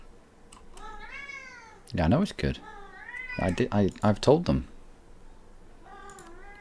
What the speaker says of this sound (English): That is my cat, by the way.